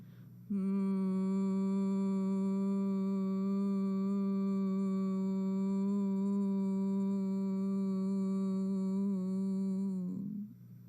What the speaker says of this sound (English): Again with the humming sound.